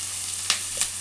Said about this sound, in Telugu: పసుపు పచ్చివాసన పోయేంత వరకు వేయించుకోవాలి